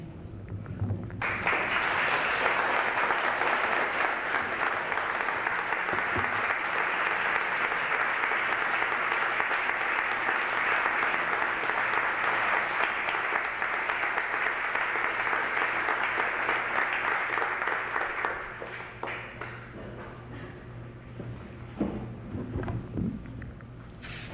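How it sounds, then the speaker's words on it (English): Sustained, loud applause from a large audience, steady for nearly twenty seconds before tapering off into scattered claps and murmurs. "Big hand of applause"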